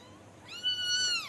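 Newborn chubby kittens give a couple of high, wavering meows close by, rising and then sliding down, after a soft near-silent start.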